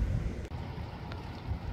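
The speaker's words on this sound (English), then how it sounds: "it's starting to rain again, and I just don't want to go out there because it's super, super windy" Strong, gusty wind blowing across a farm in Ireland in springtime as rain begins, heard as a continuous low, rumbling buffet on the microphone with a brief dip midway and no talking.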